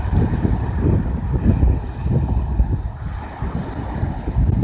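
Waves wash in at the water's edge with a continuous low rumbling surge, and strong wind buffets the microphone throughout. No one speaks.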